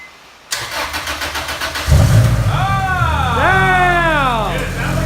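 A Honda Integra DA9 running a Neptune Demon 2 ECU cranks with a rapid starter chatter, then catches and fires into a loud rough idle before revving up sharply twice, close by.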